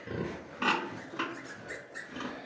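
Hungry piglets on a pig farm squeal repeatedly in a close, dense chorus of shrill overlapping cries with pulsing bursts, heard alone without talk.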